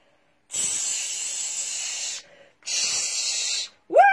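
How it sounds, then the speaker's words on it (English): Snake hissing in two long, loud bursts of breathy hiss, each lasting over a second with a short gap between, followed by a brief rising voiced squeak at the end. "sounded like a snake"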